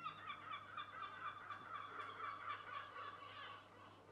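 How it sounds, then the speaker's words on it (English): Seagulls call outdoors in Bristol, a faint, distant series of repeated harsh squawks that rise and fall over a low steady background hum, with no talking. "But we do get a lot of seagulls around."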